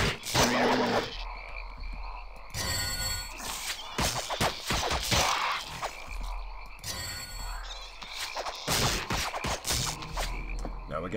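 Frog croaking in the fantasy RPG Dungeon Siege, heard as repeated croaks in uneven bursts against a quiet, buzzy game background.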